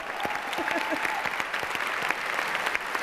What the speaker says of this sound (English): Give the 14th Amendment a round of applause